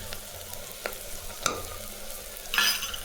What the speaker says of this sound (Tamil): நல்லா மிளகாய்த்தூள் வாசனை போகிற வழி வதக்கிங்க அது கூடவே